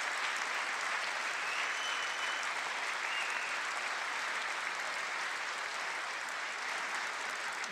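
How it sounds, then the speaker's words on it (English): Audience applause at the 2018 State of the Union address, a dense, steady wash of clapping from a large crowd filling the chamber, sustained evenly throughout without a break. "Half of this shit is clapping."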